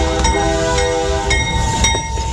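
A freight train rolls along rails through Brownsville from Mexico, loud and close, with sustained tonal wheel squeal and periodic clicks from the track joints.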